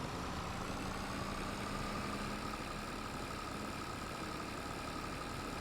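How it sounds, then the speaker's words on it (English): Tractor engine in Farming Simulator 22 running at a steady, droning idle-like hum, low and continuous with a faint mid tone, alone without talk throughout. "We got a tractor. It sounds like shit."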